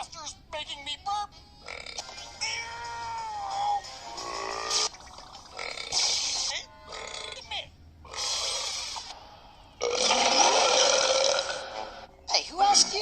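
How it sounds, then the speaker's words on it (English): Repeated burps, a series of long, voiced belches of varying length and pitch that are loud and close, broken by short gaps, with a raspy, grunting quality. "Master's making me burp."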